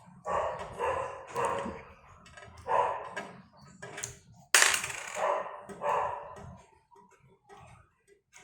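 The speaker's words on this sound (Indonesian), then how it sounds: "Tuh, anjing emang berisik." Dog barking in bursts at moderate distance, several loud yaps spread over a few seconds, with one sharp louder bark in the middle and quieter stretches toward the end.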